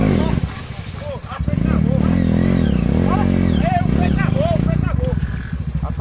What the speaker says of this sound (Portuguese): Acelera a moto,